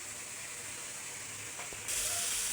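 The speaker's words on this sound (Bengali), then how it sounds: "তো এখন একটু আমি হালকা করে আগে পানি দিয়ে দেবো।" Water splashed onto spices frying in a pan for a village-style koi fish and radish curry: a faint steady fry gives way to a sudden loud, sustained sizzling hiss that lasts to the end.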